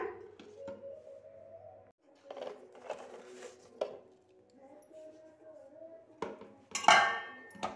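Lemon rice pulihora being stirred and mixed in a pan, with irregular scraping and clinking of a spoon against metal in scattered bursts, a sharper clatter near the end, fairly close and moderately quiet.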